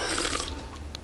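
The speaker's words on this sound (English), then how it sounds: "We're having a burp contest, Mom." A single drawn-out burp from The Simpsons burping contest fills the moment, close and fairly loud, rumbling for about a second with no talk over it.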